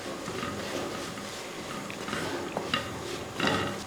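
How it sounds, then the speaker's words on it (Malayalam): Pepper powder and garam masala being stirred in a pan, a steady scraping of spoon against metal with a few sharper clinks near the end, close and moderately loud. "ഇനി ഇതൊന്ന് ഇളക്കി കൊടുക്കുക"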